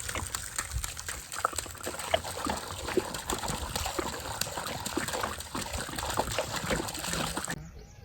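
Water pours and splashes into a dug pit outdoors, a steady continuous gush with irregular spatters running unbroken for several seconds before cutting off abruptly near the end.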